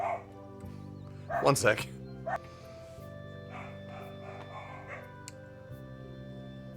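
Dogs bark and yip in a short loud cluster near the start while game music plays steadily underneath, and someone speaks briefly.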